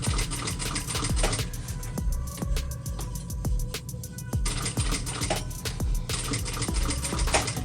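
Sewing machine stitching a bag, running in steady rhythmic bursts of fast mechanical ticking, pausing briefly midway before resuming, close and moderately loud with light clicks throughout.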